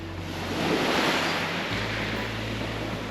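Ocean waves wash onto a quiet beach in El Nido, Philippines, a steady broad surf roar with light wind noise and a low boat-like hum underneath throughout.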